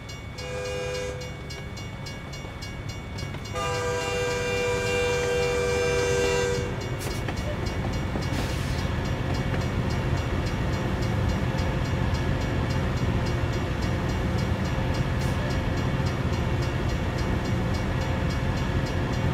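A train passes a road crossing in American Truck Simulator's Kansas route near Dodge City and Colby, its horn sounding in long steady blasts over a continuous loud rumble of rolling cars that carries on after the horn stops.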